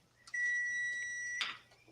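A kitchen appliance gives a steady electronic beep, one sustained tone lasting about a second, fairly clear in a quiet room, followed by a short clatter.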